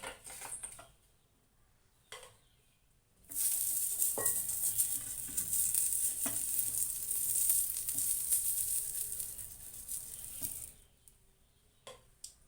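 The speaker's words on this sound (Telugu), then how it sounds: "ఈ దోశ తీసేసుకుందాము. మరొకటి వేసుకుందాము." Dosa sizzling and frying on a hot pan, a steady bright crackle that swells for several seconds after quieter stretches, with a few faint utensil knocks on the pan.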